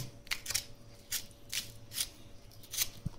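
A knife blade cuts through a beef shoulder in a series of short, crisp scraping strokes, about eight evenly spaced passes heard close and alone.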